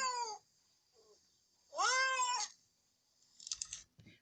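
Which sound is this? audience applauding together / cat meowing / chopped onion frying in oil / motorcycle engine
cat meowing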